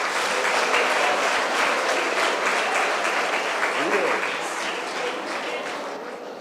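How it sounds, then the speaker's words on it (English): An audience at a live hackathon event in Vizag gives a sustained round of applause to welcome a speaker, dense clapping that gradually tapers off, with voices faintly mixed in. "Please welcome him with a huge round of applause."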